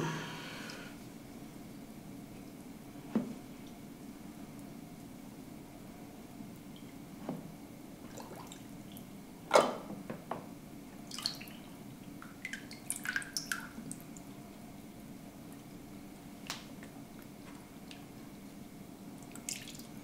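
Water dripping and splashing as a dry whetstone soaks before sharpening, with scattered irregular drops and small splashes over a soft steady background, fairly close and moderately quiet.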